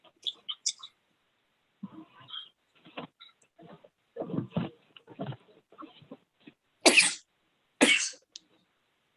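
In a courtroom meeting room, a person gives a couple of loud, sharp sneezes near the end, following softer scattered coughing and throat sounds.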